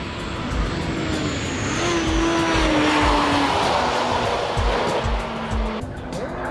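A Honda Type R with a 1,600 cc engine races through chicanes, its engine screaming at high revs with shifting pitch, rising and falling between gears, loud and continuous from inside the car, with no talk.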